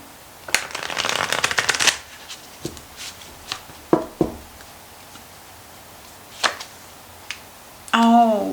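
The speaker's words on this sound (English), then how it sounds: "Shuffle one more time." Tarot cards are riffled in a quick rustling burst, followed by scattered taps and soft card handling, then another short shuffle at the end.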